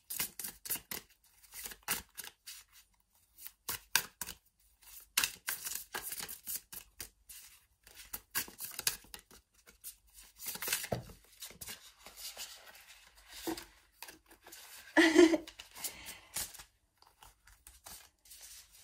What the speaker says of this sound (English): Let's get to the shuffling already.